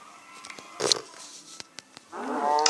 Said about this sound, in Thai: เฮ้เจอวัว อ้าววัวหนี อ้าวทำไมตีวัวไม่ได้วะ